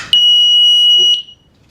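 A battery-operated combination smoke and carbon monoxide detector sounds its test alarm: one loud, piercing high-pitched beep held about a second, close up, then silence.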